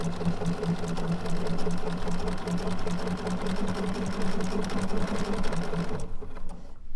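A sewing machine stitches steadily while machine quilting along a ruler, its fast, even motor hum and needle chatter running continuously up close before cutting off near the end.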